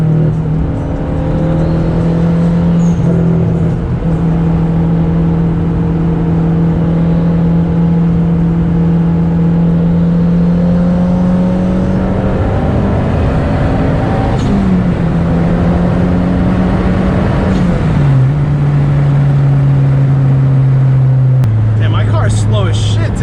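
A 400whp 2010 Mazda Mazdaspeed 3 accelerates hard on the road, the loud turbocharged engine droning and climbing through gears with shift dips, heard from inside the cabin while a person talks over it.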